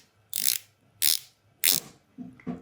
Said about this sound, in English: Nice stiff clean bezel action.